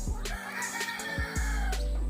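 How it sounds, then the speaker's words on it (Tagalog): Small bantam chickens at an eco park in Baras, Rizal, cluck and squawk in short bursts over a steady background hum, close by. "So, yan yung mga manok nila dito. Bantam yata to eh. Maliliit eh."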